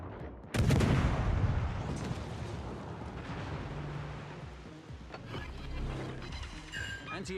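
Anti-aircraft guns firing aboard a warship in World of Warships, opening with a sharp loud blast followed by a rumbling barrage of booming shots that fades slightly, with brief speech late on.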